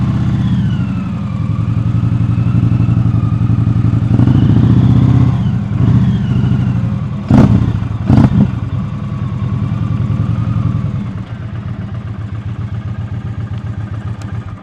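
An Indian touring motorcycle rolls at slow speed near 1500 RPM, its steady mid-pitched engine drone constant throughout, with two sharp clacks partway through and a slightly lighter, choppier idle toward the end.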